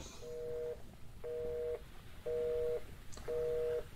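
Telephone off-hook tone in the horror video game They Are Here: four steady, evenly spaced beeps repeating over low ambient background hum.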